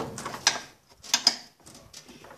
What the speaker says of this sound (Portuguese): Já afrouxamos um pouco. São vários parafusos.